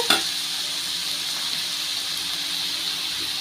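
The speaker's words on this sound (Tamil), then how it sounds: "இந்த காயெல்லாம் நல்லா மிக்ஸ் பண்ணிடலாம்." Chopped vegetables frying in a pan for chicken noodles, a constant close sizzle with a brief scrape of stirring at the start, no talk.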